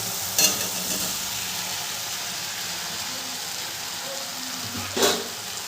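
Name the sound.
fried jackfruit and potato stirred into frying masala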